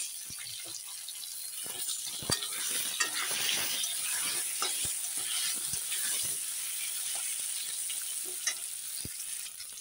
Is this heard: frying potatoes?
yes